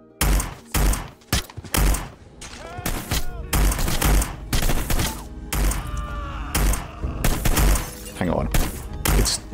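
Gunfire in Hitman: Blood Money on the Switch, with irregular loud shots and thuds scattered among game noises and groans, and a person briefly talking over the action.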